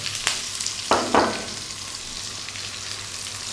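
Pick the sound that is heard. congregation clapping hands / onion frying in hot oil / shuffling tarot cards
onion frying in hot oil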